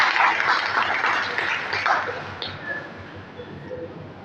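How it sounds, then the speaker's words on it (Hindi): An audience at a haemophilia awareness program in Bikaner applauds to welcome a doctor. The dense clapping is loud at first and then fades away. "ताली बजाकर उनका स्वागत करें"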